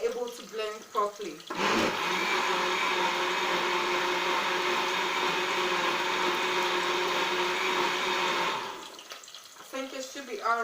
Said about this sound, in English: I'm going to turn this back on again to make sure the ginger slices were able to blend properly.